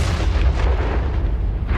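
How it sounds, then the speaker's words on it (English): A heavy low rumbling boom rolls on for a moment, deep and muffled as if from a distance, with no voices. "is some kind of explosion."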